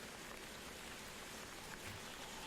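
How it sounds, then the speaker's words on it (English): Steady rain falls in a continuous, even hiss, soft and constant with no distinct drops and nothing else heard. "Endless rain."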